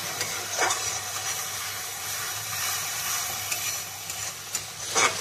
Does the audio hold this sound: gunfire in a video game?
no